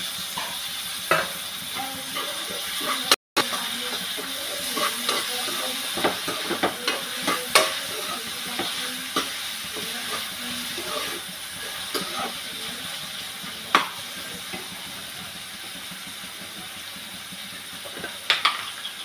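Tomato goes into a hot, sizzling pan for a prawn roast, giving a steady loud hiss and crackle with occasional stirring scrapes and pops throughout.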